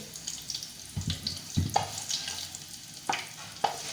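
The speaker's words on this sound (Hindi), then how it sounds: "थोड़ा सा इसको ऑयल में फ्राई करके फिर हम इसमें प्याज डालेंगे।" Cumin seeds fry in oil in a pot for mutton pulao, a soft sizzle with a few sharp spoon-against-pan clinks and stirring knocks, close and fairly quiet.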